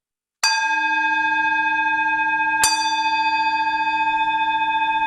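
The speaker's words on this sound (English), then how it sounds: "Why don't we have a couple of bells from our bell ringer guardian?" Two clear strikes of a ringing bell by a bell ringer in a circle gathering, each loud, close and long-sustained, the second coming about two seconds after the first and letting the tones overlap and fade slowly.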